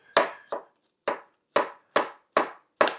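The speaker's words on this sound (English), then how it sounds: "I think that's finely chopped." Seven crisp knife strikes on a cutting board as mushrooms are chopped finely for duxelles, spaced about half a second apart in a steady, close rhythm with no talk.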